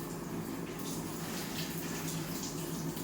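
A lemon is rinsed under running tap water, making a constant, even splashing rush with no breaks for the whole short stretch.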